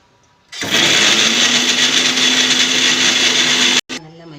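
A mixer grinder suddenly starts whirring loudly and grinds steadily for about three seconds before cutting off abruptly.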